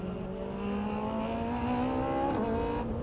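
An Ariel Atom V8 car with a 475-horsepower engine at full throttle, its engine note climbing steadily in pitch, loud and close, with a brief dip near the end as it shifts gear.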